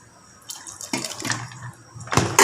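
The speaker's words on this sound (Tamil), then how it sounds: "காய்கறி வெந்தவொடனே அப்புறம் புளி தண்ணி கொஞ்சம் ஊற்றும்." Tamarind water splashing into a cooking pot of mutton dalcha with vegetables, in uneven pours and drips that swell into a louder gush at the end, close up with no speech.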